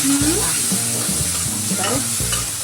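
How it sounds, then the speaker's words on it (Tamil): Onions sauté in a pan for a puli kuzhambu masala gravy, giving a loud, steady sizzle close by, while a utensil scrapes and knocks against the pan in a regular stirring rhythm. No one is talking. "வெங்காயம் நல்லா வதங்கிட்டு இருக்கா"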